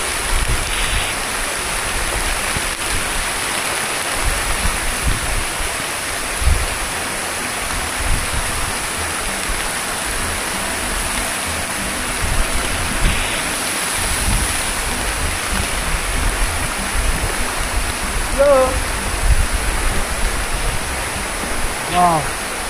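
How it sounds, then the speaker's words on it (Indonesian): A waterfall in Java roars in a broad, steady wash like heavy rain, loud and unbroken, with faint voices now and then beneath it. "And beautiful waterfall in Java."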